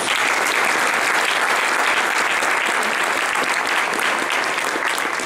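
Sustained, dense applause from a large audience at an Economic Club event, loud and steady for several seconds with no one speaking over it.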